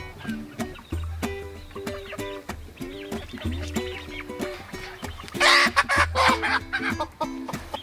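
Splash Marans chickens cluck and murmur in a hoop coop, with repeated short, bouncy calls and a brief burst of louder squawking near the end.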